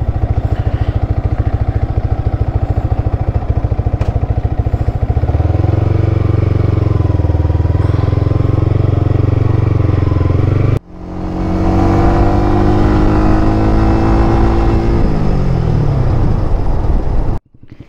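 A Yamaha R15 sport motorcycle ridden on an outing, with a steady close engine drone that breaks off briefly, then rises through several rising rev sweeps as it accelerates through gears, no talk.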